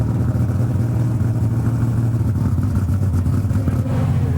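Big Toy 2, a pulling tractor driven at a 2007 tractor and truck pull in Goshen, Indiana, idles and revs with a deep, loud, steady engine rumble that pulses unevenly and stays close throughout.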